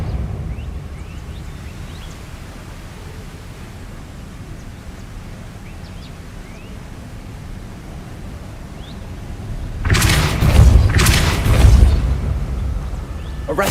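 In the video game Hogwarts Legacy, a Depulso spell lets out a loud, rumbling whoosh-like burst with a second blast right after it, heard over quiet ambient game background.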